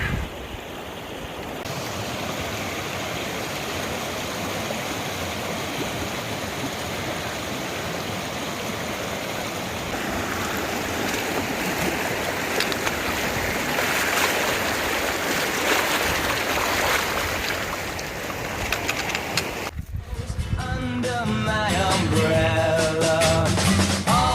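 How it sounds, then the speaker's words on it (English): Shallow creek water on the Pacific Crest Trail rushes and burbles steadily and close by, a continuous broadband wash with no voices, the tone shifting slightly toward the end. "crossing the creek every 5 minutes. Luckily, the creek is not deep or dangerous"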